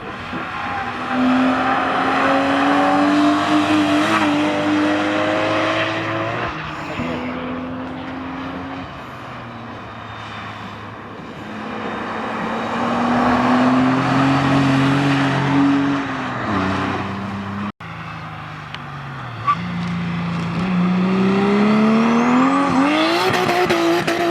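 Cars race past on a track during a winter track day, engines rising and falling in long revving passes, some near and loud, others fading into the distance, with no talk over them.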